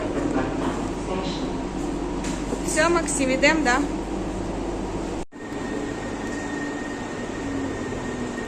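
Inside a driverless metro train in Rome: a steady rumbling hum and whine of the moving carriage, with people talking and a brief squeal partway through, then a quieter steady drone after a sudden cut.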